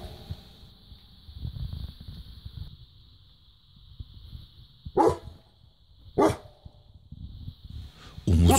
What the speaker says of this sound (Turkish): Umutsuzca gecenin karanlığını havlıyor.